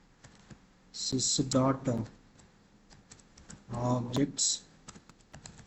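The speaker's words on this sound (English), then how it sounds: "So here I am typing one query" Rapid clicking of a computer keyboard as an SQL query is typed, quick taps running throughout while someone speaks over it in two short bursts.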